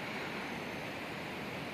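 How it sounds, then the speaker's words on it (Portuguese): Steady broadband rush of a waterfall about 50 metres away in a forested spot, a constant unbroken roar at moderate level with no talking. "Esse barulho que vocês estão ouvindo é uma cachoeira que está a 50 metros daqui."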